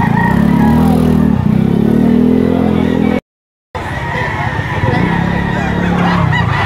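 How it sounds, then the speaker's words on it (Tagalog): Many gamefowl gathered at the Lipa auction market in Batangas, a dense, loud din of crowing and clucking mixed with engine noise and people talking, broken by one short silent gap. "yan sitwasyon dito sa bayan na Lipa dito sa auction market. Maraming manok"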